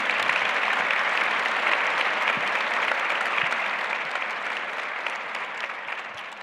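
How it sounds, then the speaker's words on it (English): An audience welcomes a guest joining the governor on stage with sustained applause, a dense, continuous crowd of clapping hands that stays loud and even throughout, tapering just slightly near the end. "Let's give him a round of applause,"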